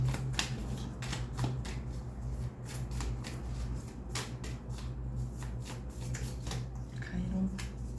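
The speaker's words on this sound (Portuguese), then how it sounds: "eu vou continuar embaralhando para pegar uma só, ou duas no máximo" Tarot cards being shuffled by hand close up, a steady run of crisp riffling and slapping card sounds repeating over several seconds with no speech.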